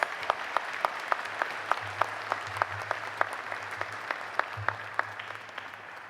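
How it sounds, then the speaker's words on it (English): A commencement audience applauds honorary degree recipients. The faint, distant claps fall in an even, rhythmic beat over a low hum, filling the hall without a single voice. "Let's give all of our honorary degree recipients a thunderous applause"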